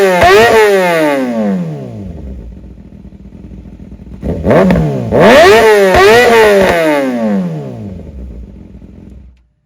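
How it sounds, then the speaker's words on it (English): A very loud Kawasaki ZX6R sport motorcycle revs hard in two bursts, its engine note climbing sharply and falling away between blips, then holding high before cutting off, close and overpowering with no talking. "Congratulations on having the most loudest bike I've ever heard."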